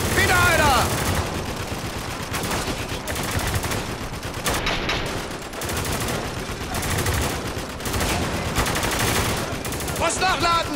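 Dense gunfire from the Spec Ops: The Line shooter, with bursts of machine-gun fire and rapid shots going nearly nonstop at loud, steady volume. Voices speak over part of it.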